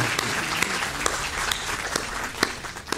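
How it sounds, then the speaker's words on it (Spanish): Seminar audience at a public-sector reform panel in Peru applauding a speaker, a steady, even wash of many hands clapping close by with a few sharper individual claps standing out. "Un fuerte aplauso, por favor, para nuestro amigo Renan"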